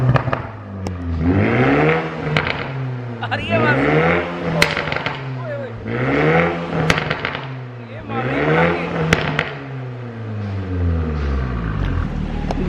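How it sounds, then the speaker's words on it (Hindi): Sports car exhaust with the valves open in sport mode, revved hard about five times in a rhythmic rise-and-fall, each rev ending in sharp pops and crackles, loud and close, with a man briefly exclaiming. "तो यार ये सुन लो अब गाड़ी की आवाज़"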